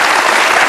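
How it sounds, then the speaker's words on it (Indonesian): Studio audience applause at a televised political talk show, a dense, steady wash of many hands clapping, loud and continuous throughout with no gaps. "Oke, kita kasih tepuk tangan dong untuk keduanya."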